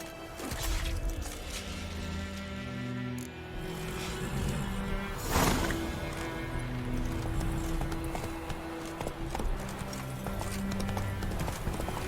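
Horses trot through a scene in the video game The Witcher 3, a steady clip-clop of hooves with an occasional whinny over a dense, continuous bed of ambient game sound and music.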